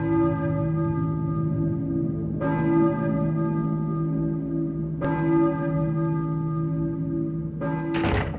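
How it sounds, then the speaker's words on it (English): A deep, resonant bell tolls three times at steady intervals in the video game Silent Hill, each strike ringing out long and loud, followed by a brief thud. "Were you ringing that bell?"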